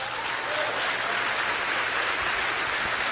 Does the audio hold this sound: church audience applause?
yes